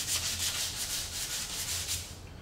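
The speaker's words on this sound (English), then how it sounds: "I'm going to sand that edge. Get that corner sanded." Sandpaper rubbed back and forth along the edge of a Peavey Reactor electric guitar body, a steady series of close, rhythmic scratchy strokes about five times a second with no talk.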